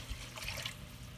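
Water pours steadily into a pot of butternut squash soup, a soft continuous splashing trickle heard close up with no voices.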